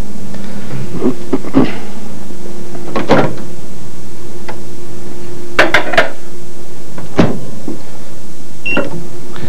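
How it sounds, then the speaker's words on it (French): A microwave oven is opened and closed for a finely diced vegetable brunoise, with several loud door clunks and latch clicks spaced apart over a steady low hum. "Donc, on envoie ça au micro-ondes."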